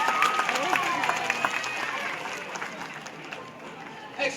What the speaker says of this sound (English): Now we're going to give Pepper a big round of applause